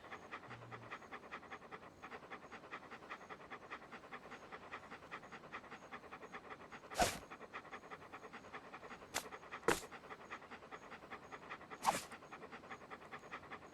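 A dog in the video game Monkey Island 2 pants in a steady, quick rhythm, faint and continuous, with a few sharp clicks standing out now and then.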